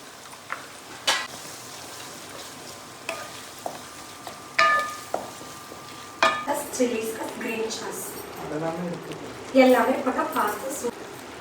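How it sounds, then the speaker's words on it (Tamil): Ground masala paste sizzles and spatters in hot oil while a spoon clinks and scrapes against the pan several times. "அரைச்சி வச்ச மசாலா ஊற்றிங்க, நல்லா எண்ணெயிலே பிரட்டல் பண்ணிடலாங்க"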